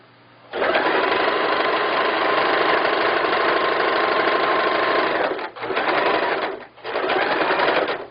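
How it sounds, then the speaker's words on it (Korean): A sewing machine runs steadily, stitching the side seam of a floral skirt with a 1 cm seam allowance, whirring loud and close for about five seconds, pausing briefly twice, then resuming. "이렇게 옆선 박음질 다 하였습니다."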